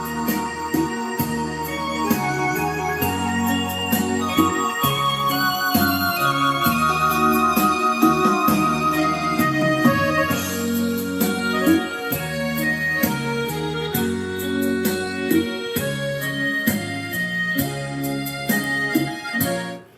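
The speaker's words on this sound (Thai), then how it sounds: "เปิดเพลงผ่าน YouTube นะครับ" Music played from YouTube loudly and steadily through a power amplifier and speakers, a full band sound with melody and bass running continuously with no talking.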